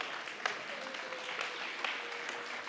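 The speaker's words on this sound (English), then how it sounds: "Big applause." An audience applauds the announced winner of a startup pitch show, a soft, even patter of clapping that carries on throughout at moderate distance.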